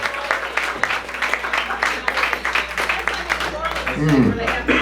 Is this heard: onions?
no